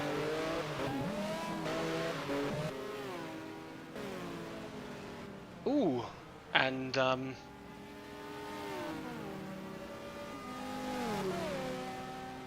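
GT race car engines in a racing video game set at the 2000 FIA GT Zolder 500km rev hard, rising and falling with gear changes, with sharp tire squeals in the middle and a voice talking briefly over them.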